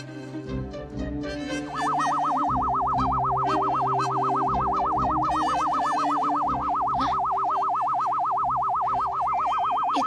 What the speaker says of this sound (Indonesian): Itu kan bunyi alarm mobil aku.